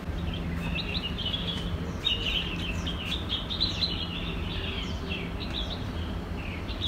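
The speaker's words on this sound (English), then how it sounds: "I'll just listen to the birds singing in the sky" High, thin bird chirps and twittering run steadily at a distance over a constant outdoor hum.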